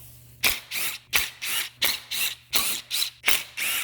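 A ratcheting 10 mm wrench loosening bolts on a Subaru EJ boxer engine clicks in a steady rhythm, about eight quick rasping strokes close by, each separated by a brief pause.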